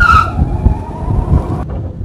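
An electric car, a 1967 Austin Mini Moke conversion, starts and drives off, with a brief high whine at the start and a steady low rumble that continues, fairly close.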